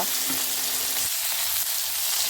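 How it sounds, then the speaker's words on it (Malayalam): Eggplant pieces fry in hot oil in a wok, a dense, close sizzling hiss that holds steady throughout the short stretch, with no talking. "ഒരു ചീനച്ചട്ടിയിൽ എണ്ണ നന്നായിട്ട് ചൂടാകുമ്പോഴത്തേക്കും അരിഞ്ഞു വെച്ചിരിക്കുന്ന വഴുതനങ്ങ കഷ്ണങ്ങളിട്ട് നന്നായിട്ടൊന്ന് വഴക്കിയെടുക്കുക"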